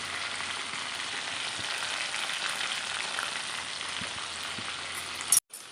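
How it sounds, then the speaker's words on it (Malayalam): Quail frying in oil over a medium flame for a Kerala-style kada fry, a steady close hiss and sputter with occasional pops, ending in a brief clatter and sudden cutoff, no voices. "കാടക്കുഞ്ഞുങ്ങൾ അങ്ങനെ ഒന്ന് മൂത്ത് വരട്ടെ"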